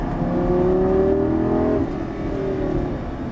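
A Lamborghini Gallardo LP550 accelerates out of a turn on a coned track course, its loud engine note climbing steadily in pitch before a brief dip as the gear shifts, then pulling on again.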